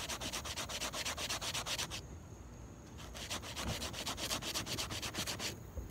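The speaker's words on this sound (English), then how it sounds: "all you're going to do is pull out a ball and go ahead and rub it against." A golf ball is rubbed back and forth against a rough sponge, making a rhythmic, close scratchy scrubbing of quick strokes. It breaks off for about a second midway, then resumes at the same steady pace.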